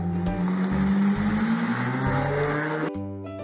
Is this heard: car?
yes